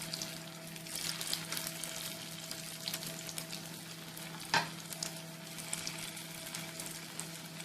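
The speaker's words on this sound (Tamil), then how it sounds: "எண்ணெய் சூடாயிடுச்சு. நான் ஒன்று ஒன்றா போட்டு எடுக்கிறேன்." Shami kebabs made with egg frying in hot oil, a quiet, crackling sizzle with faint spattering and one sharper clink near the middle, with no speech.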